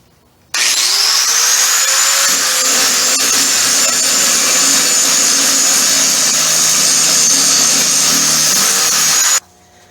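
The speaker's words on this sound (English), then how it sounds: "So I have to grind off this old weld right here." Angle grinder running steadily on an old weld in a cyclekart workshop, a loud continuous high-pitched whine with gritty grinding texture, starting abruptly and holding for about nine seconds before cutting off, no talk.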